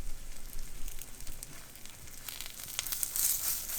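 An egg sandwich sizzles and crackles in a pan as it is flipped, a soft steady frying hiss with brief crisp pops and a slight rustle near the end.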